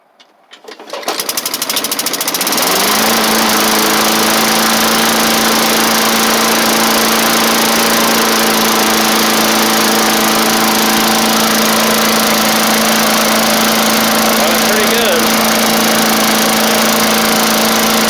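A 1990s MTD Yard Machines push mower with a Tecumseh engine sputters to life, then runs at a steady, loud, buzzing drone close by for the rest of the stretch.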